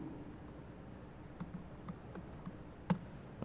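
Quick, light keystrokes tapped on a computer keyboard at a desk, a handful of soft scattered clicks with one sharper tap near the end, all faint and close over low room hum.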